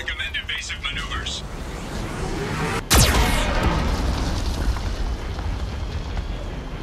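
Geth cannon blast in Mass Effect 2 on Prometheus Station: a single abrupt loud explosion followed by sustained heavy rumbling, with voices heard before the shot.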